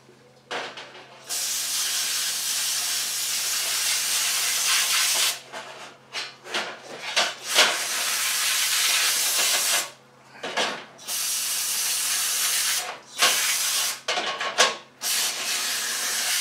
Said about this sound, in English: Grab a little carb spray.